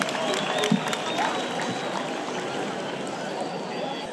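A stadium crowd in Nyanza, Rwanda claps during a traditional performance with Inyambo cattle. The clapping is dense and moderately loud, mixed with scattered voices across the crowd.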